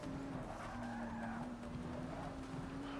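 Ford GT race car in Forza 6, a steady high tire squeal skidding through a corner over a continuous engine drone, close and sustained for the whole moment.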